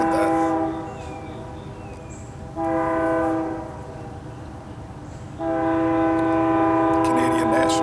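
A Canadian National Railroad freight train passes close by, its horn sounding in two long loud blasts over a steady rumble of rolling wheels and cars.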